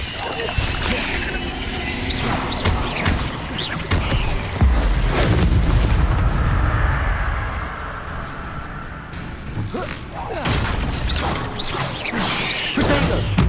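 Spell combat in the video game Hogwarts Legacy gives a run of loud booms, crashes and whooshes that swell and fade. Voices shout over the blasts.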